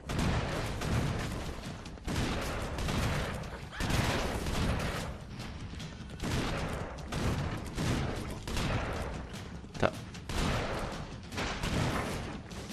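Rapid gunfire and explosions from the video game Broforce rattle on continuously, with dense bursts of shots, a few sharper blasts, and background game noise throughout; no speech is heard.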